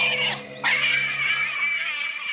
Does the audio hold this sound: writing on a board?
no